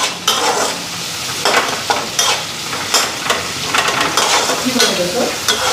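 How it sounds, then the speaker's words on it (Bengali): Onion frying in a pan while chowmein is cooked, a loud steady sizzle with repeated bursts of stirring and scraping throughout, close and alone with no voices. "পেঁয়াজটা ফ্রাই করে নিই"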